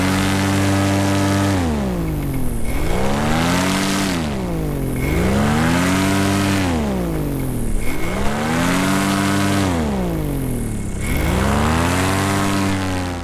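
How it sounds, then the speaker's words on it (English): A propeller engine revs repeatedly from idle up to full throttle and back down, its loud pitch sweeping up and falling in about five even cycles, close and continuous with no talk. "I did some tests in the air, going from idle to full throttle"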